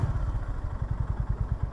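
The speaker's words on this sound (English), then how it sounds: "that idle, almost like it could stall if you don't give it that little bit of revs before you pull away" A Honda GB350S single-cylinder motorcycle idles very low and lean, with a steady, loping run of deep thumping pulses at close range.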